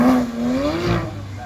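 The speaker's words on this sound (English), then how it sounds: "This is that noisy Porsche now." A noisy Porsche at the launch line of a CarFest North 2019 supercar display revs loudly with a droning, rising engine note that lasts the whole brief moment, heard close and dominant.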